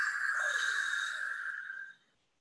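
A person imitates a long, hissing exhale through a narrowed throat, like a diver breathing out, steady and close before trailing off.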